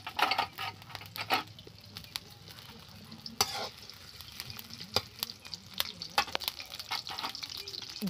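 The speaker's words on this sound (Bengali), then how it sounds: "খুব ভালো করে আমি এটা ভেজে নেব।" Onion and tomato fry with a bay leaf in mustard oil in a wok, giving a soft, continuous sizzle broken by sharp clicks and scrapes of a spatula stirring, fairly quiet and without talk.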